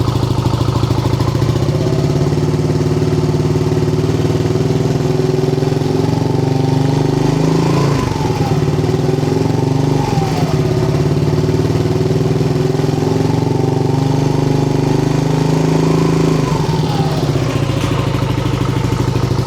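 Yamaha Nmax Techmax scooter with a 4S1M Street Core V3 aftermarket muffler held at 3,000 RPM: a steady, loud, close exhaust drone with a slight waver, running alone without talk.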